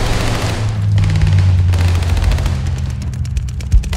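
Loud, dense gunfire and battle noise fill a hardpoint fight in the video game Call of Duty Vanguard, with rapid shots over a continuous low rumble and a sharp burst near the end.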